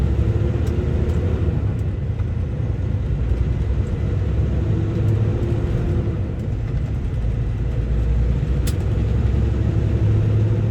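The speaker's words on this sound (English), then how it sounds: "Look at the traffic." Road traffic at a street corner with lights, a steady loud rumble of passing cars and engines filling the whole stretch without pause, heard from close by.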